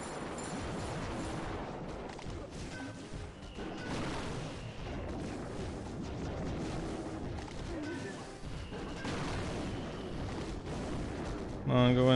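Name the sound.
attack battle sounds in Clash of Clans video game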